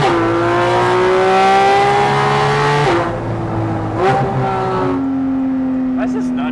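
A Porsche 718 Cayman GT4 RS with aftermarket headers and exhaust revs on a dyno: a loud, sharp, high-pitched flat-six howl that climbs, dips between blips and rises again, close and continuous.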